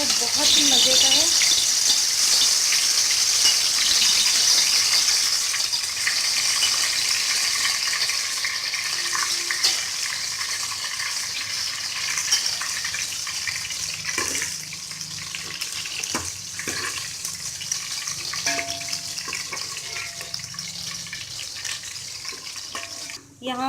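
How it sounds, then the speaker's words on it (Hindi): Sliced onions fry in hot oil in a cooking pot, a loud, steady hiss and sizzle that slowly fades over about twenty seconds, with someone talking over it and a few clinks of utensils. "यहाँ पर फुप्पो ने भगोने में प्याज डाली है"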